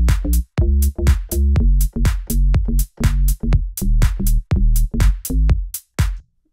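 A deep house donk bass made with FM8 plays a fast, bouncy run of short, punchy, plucked low notes in a steady syncopated rhythm. It is loud and close with nothing else heard.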